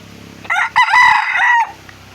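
A rooster among backyard labuyo fighting chickens crows once up close, a loud bright cock-a-doodle-doo lasting about a second, with faint background noise before and after.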